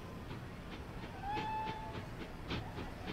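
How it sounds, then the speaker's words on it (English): A steam locomotive whistle in the train game Transport Fever sounds once as a thin, mid-pitched tone lasting about a second, over a steady rumble of moving rail cars with a light clickety-clack rhythm. "What a horrible little whistle that was."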